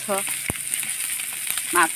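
Fish fries in a pan with a steady, close sizzle and crackle of hot oil running throughout, with brief voices at the start and near the end.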